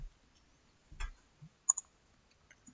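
Soft mouse clicks on a Save and Continue button, a couple of quiet close clicks in near silence.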